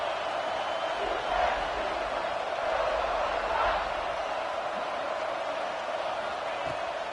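College football stadium crowd roaring steadily in the background, a broad wash of cheering noise that swells around the middle and stays loud throughout, with no talk over it.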